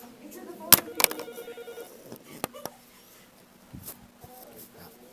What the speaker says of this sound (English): Wait, Amy, answer the phone.